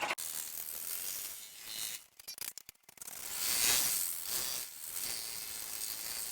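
An embroidery machine stitches a name onto a baseball bag tag, giving a rapid mechanical ratcheting chatter up close, broken by a short choppy pause before it settles back into steady stitching.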